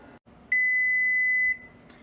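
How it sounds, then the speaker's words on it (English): An oven timer on a home oven signals that a loaf of sourdough bread is done, giving one sustained steady electronic beep lasting about a second. It is loud and close, against a quiet room. "So that sound means we're ready to take our bread out of the oven."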